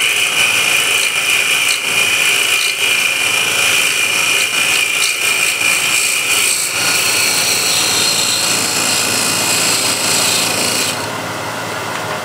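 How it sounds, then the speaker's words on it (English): Woodturning lathe with a gouge shear-cutting spinning wood, giving a loud, continuous rasping hiss over the motor's hum that eases slightly near the end, with no talk. "you can use just to the right of the point of the gouge. That will give you nice shear action."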